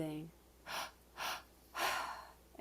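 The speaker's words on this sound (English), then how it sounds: "breathing" A guided breathwork session carries three slow, deep, audible breaths, each a soft airy rush, evenly spaced and close to the microphone, following a brief murmured voice at the start.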